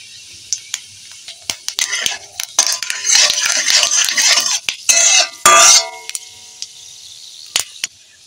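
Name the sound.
bay leaf and dry chilli tempering in mustard oil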